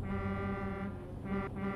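A truck's air horn in Euro Truck Simulator 2 sounds one long, deep, steady blast that fills the whole moment, loud and close, with no talk over it.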